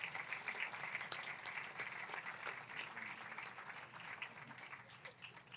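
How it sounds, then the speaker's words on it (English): Audience applauding Hall of Fame inductees at the St. Louis Park Athletic Hall of Fame ceremony, a steady, fairly distant patter of clapping from a crowd that holds evenly throughout. "Let's give them a round of applause."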